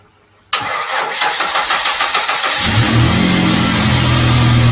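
A Ford Mustang engine cranks to life after a brief silence, turning over briefly before catching into a loud, steady idle with a deep rumble that holds to the end.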